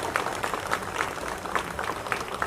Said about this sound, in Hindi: जोरदार तालियों से सुनील राणे जी का आप अभिनंदन करिए